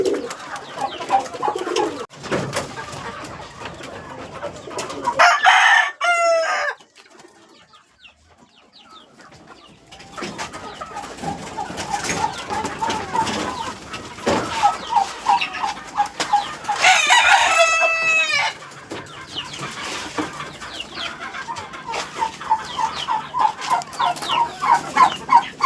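Two newly acquired turkey chicks, earthquake survivors, calling with thin, high chirps in scattered bursts, fairly close, with quiet gaps between calls.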